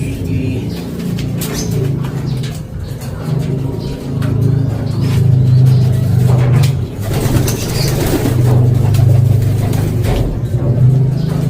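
Pigeons coo in repeated low, throaty phrases throughout, close and steady, with someone talking over them and faint traffic noise in the background.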